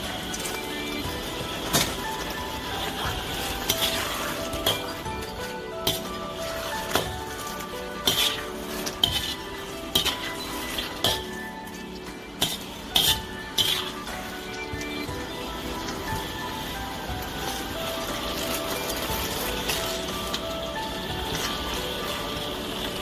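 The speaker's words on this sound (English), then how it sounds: "we are ready to toss the Manchurian balls in here" Manchurian balls being tossed in sauce in a pan for an Indo-Chinese dish: repeated metallic clanks and scraping of utensils against the pan over a steady sizzle, with no talking.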